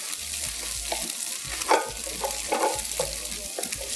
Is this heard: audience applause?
no